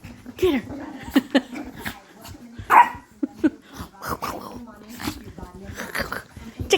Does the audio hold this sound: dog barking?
yes